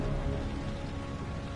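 Steady, dense rain falls in the video game Heavy Rain, a constant close hiss of drops spattering on surfaces with no breaks.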